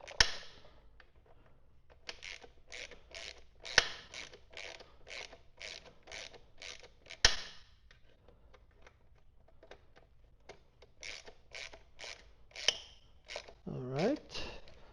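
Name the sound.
tightening Loctite-coated bolts on a motorcycle skid plate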